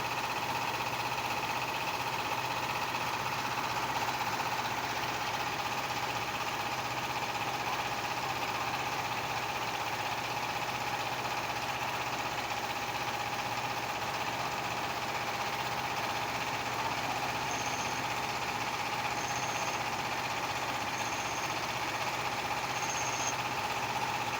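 A trawler boat's engine runs at a steady, even drone throughout, close and constant, with no voices over it.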